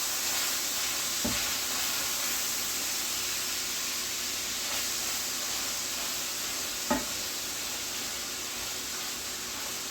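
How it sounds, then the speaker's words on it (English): Ground beef cooking in a pan on medium heat gives a steady, even sizzle and hiss throughout, with a couple of brief knocks or stirring clunks. "we're gonna cook the ground beef"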